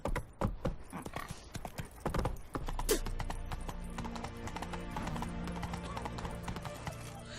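Horse hooves clip-clop steadily in the video game The Witcher 3, a close rhythmic trot amid busy game sounds and a crowd, with someone talking over it.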